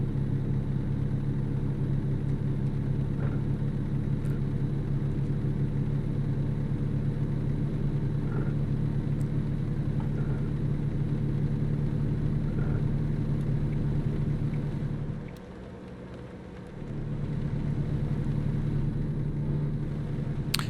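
A truck engine in American Truck Simulator idles with a steady, low rumble, its drone dipping briefly near the end before returning at the same level.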